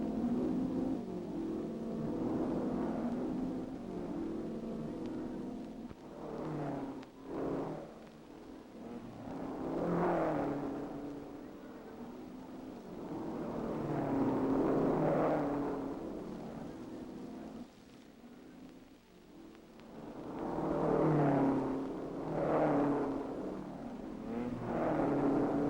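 Ferrari race cars roar past at the 1961 European Grand Prix road race, engines swelling and fading in repeated passes at a distance, with a slightly muffled, old-recording tone.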